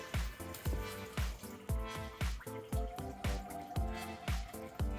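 Engine coolant drains from a Volvo D5 diesel during timing belt work, falling in steady, rapid drips and splashes close by, each landing sharply about twice a second over a faint trickle.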